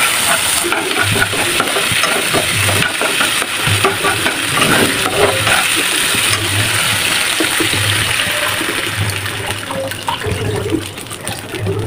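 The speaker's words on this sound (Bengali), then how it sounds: "এবারে অল্প করে পানি দিয়ে দেবো, ফাইন করে কষাবো।" Spice paste of mustard, garlic, ginger, cumin, turmeric and chili powder with onion, sautéed in a pan with a little water; a steady close sizzle with scraping stirs runs throughout, no talk.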